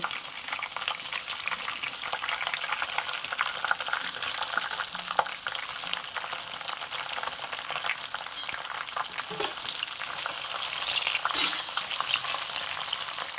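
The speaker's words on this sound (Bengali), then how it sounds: "আর দেবো এই লঙ্কাগুলো একসাথে ভালো করে ভেজে নেব" Red chillies and garlic frying together in a pan for Kashmiri red chilli pickle, a continuous close crackling sizzle with occasional stirring scrapes and bubbling pops, no talking.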